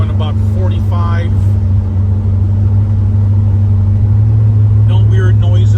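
A 1971 Chevrolet Corvette LS5 454 cruising down the road at about 45 mph, its engine a loud, steady low rumble with constant road noise throughout, while someone briefly talks over it at the start and end.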